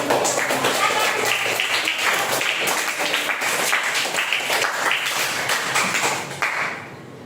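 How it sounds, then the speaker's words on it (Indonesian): Students in a classroom clap their hands in a sustained round of loud, dense applause lasting several seconds before it tapers off, with voices mixed in. "Tepuk tangan."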